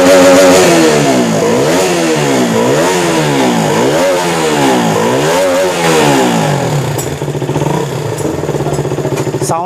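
A rebuilt KTM RC 200 motorcycle engine revs repeatedly in rising and falling sweeps, loud and close, then settles to a steadier idle with no talking.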